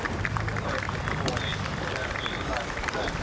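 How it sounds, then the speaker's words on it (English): Spectators applaud near the finish line of a single sculls race in the Diamond Jubilee event at Henley Royal Regatta 2024: a dense, continuous patter of clapping from a crowd, with a commentator's voice over it. "You hear the claps towards the finish line, everyone applauding."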